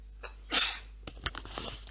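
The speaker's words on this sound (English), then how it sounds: "a bit of a sneeze there" A single sharp human sneeze bursts out loud and close, followed by faint rustling and small clicks, during a tabletop wargame session.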